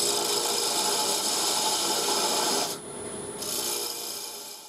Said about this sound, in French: je vais utiliser mon tronçoir et libérer la pièce